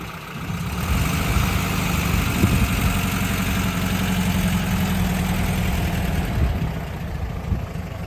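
A 1971 VW Westfalia bus engine idles slightly low, a steady close air-cooled putter with a low rhythmic throb that holds for about seven seconds before easing slightly.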